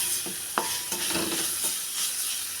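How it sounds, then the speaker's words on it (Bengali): Leafy greens fry in a pan with a steady crackling sizzle, broken by several sharp scraping stir strokes close by, with no voices. "আমার শাকটা ভাজা হয়ে গেছে"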